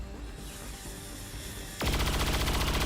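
Sustained burst of suppressing gunfire in the turn-based strategy game XCOM 2, with a loud, dense rattle of rapid shots that starts abruptly partway through over a quieter game background.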